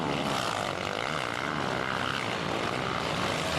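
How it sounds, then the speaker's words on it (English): Several four-stroke motocross bikes in the premier AMA class at the 2006 Southwick race roar past, a dense, loud and continuous engine drone with layered exhaust notes and no speech. "The sound of the big bikes certainly different than it has been in the premier motocross class over the years past"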